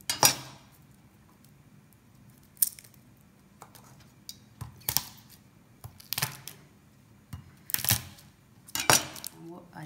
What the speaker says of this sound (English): I love garlic, so I always like to chop more